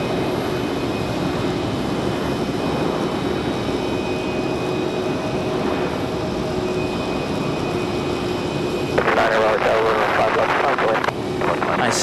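An American Airlines Embraer E175 jet landing at Raleigh-Durham airport, a loud sustained engine roar with a sharper rushing burst near the end, while a voice talks over it.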